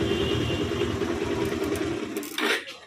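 Bajaj Pulsar 150 BS3 motorcycle engine idling steadily, then fading and shutting down after the battery terminal is disconnected, followed by a brief metallic rattle near the end.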